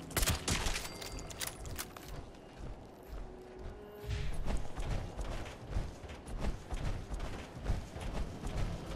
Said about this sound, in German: Kann sogar auf den Panzer schießen.